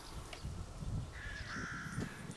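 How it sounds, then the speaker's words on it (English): Crows caw outdoors in a repeated series of harsh calls at moderate distance, set against steady low wind rumble. "noisy crows in the background"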